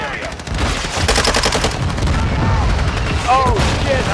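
Rapid automatic gunfire in Modern Warfare 2, loud close bursts of shots in a fast rhythm throughout, with game effects and chirping tones over it and no talk.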